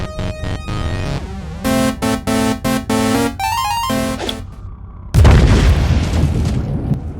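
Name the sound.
grenade explosion in Warhammer 40k Inquisitor Martyr video game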